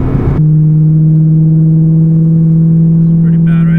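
A BMW M3 fitted with cheap aftermarket mufflers cruises in fifth gear, giving a loud, steady, droning exhaust hum that holds one constant low tone after a brief burst at the start.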